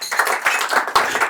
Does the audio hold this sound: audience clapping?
yes